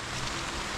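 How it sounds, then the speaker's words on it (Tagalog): Steady rain falls on a farm planted with tomatoes, a dense, even hiss filling the whole short stretch with no pauses, spoken voices absent. "Oh, ulan na naman."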